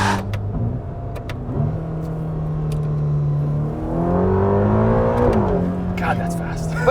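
A 2021 Ferrari Roma with a 612-horsepower twin-turbo 3.9-liter V8 drones steadily from inside the cabin, then its pitch climbs hard under acceleration before easing off, with a few brief clicks and knocks around it.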